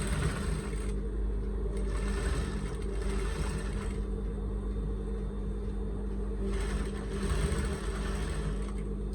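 A sewing machine stitches lace onto a wedding veil, a steady low mechanical hum with a faint repeating whir that swells and eases in gentle surges, with no one talking.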